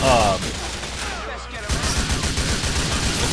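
Submachine guns fire rapidly in the video game Grand Theft Auto IV, a loud continuous rattle of automatic shots that fills the scene, with someone talking over it.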